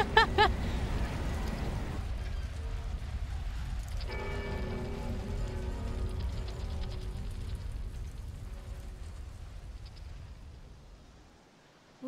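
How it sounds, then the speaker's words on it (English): Steady rain falls over the Dark Souls 3 game world, a constant broad hiss of drops with a ringing bell-like tone joining midway, fading near the end. "it's raining now"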